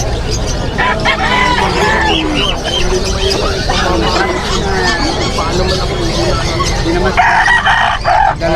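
Chickens cluck and a rooster crows repeatedly amid a busy, loud barnyard din at a livestock market, with a murmur of voices in the background.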